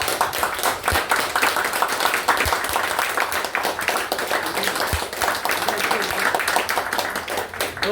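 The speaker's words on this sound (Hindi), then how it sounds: "तो हम ताली बजाए।" A group of people clap their hands together, a dense, steady patter of applause sustained throughout without speech.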